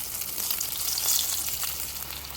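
Chopped tomatoes and green chillies fry in a wok, giving a steady, close hiss of sizzling oil that holds evenly throughout the short stretch, with no talking.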